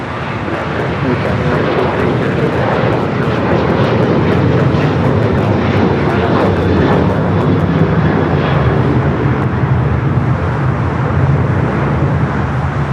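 An American Airlines regional jet lands on runway 25 left at LAX, a steady, loud broadband roar of jet engines and rushing air holding evenly throughout with a low rumble underneath.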